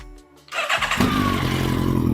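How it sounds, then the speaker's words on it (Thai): A 2022 Honda CB1300 Super Bol d'Or inline-four motorcycle engine with a full Moriwaki exhaust starts up and settles into a steady, smooth idle, close and fairly loud, with no voices. "มาฟังเสียงเครื่องยนต์กันครับ"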